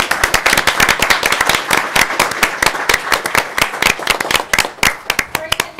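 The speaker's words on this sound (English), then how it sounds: "let's give all of our educators a round of applause" A board of education meeting audience gives educators a round of applause: close, crisp individual hand claps from a modest group, rapid and irregular, staying lively throughout with a faint voice near the end.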